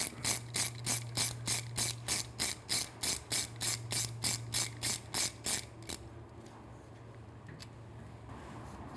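Rapid ratchet clicks from a T30 bit driver tightening a bolt on a Triumph Street Twin drag pipe exhaust, a steady run of about twenty close, even clicks that stops partway, with a low hum underneath.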